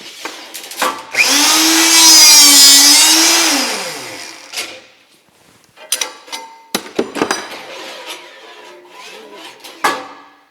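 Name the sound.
$200 rebar cutter cutting the end off a bar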